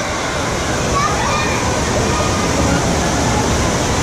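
Steady rushing and sloshing water from a jet spouting up from the floor of an indoor recreation pool at a subtropical swimming paradise, a dense continuous wash with no voices standing out.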